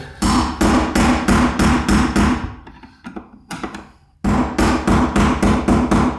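Hammer tapping while fixing a leaking shower: a rapid run of firm, evenly spaced blows, a pause with a few lighter taps, then another steady burst, close and loud.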